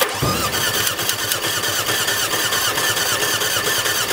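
A Mercedes A-Class direct-injection engine with a suspected failure cranks on the starter during a compression test, giving a loud, close, steady rhythmic churning with no firing and no voices.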